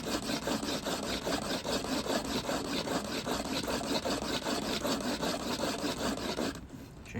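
Sandpaper rubs back and forth across a car part in fast, even strokes, a close, fairly quiet rasping rhythm that stops near the end, with no speech.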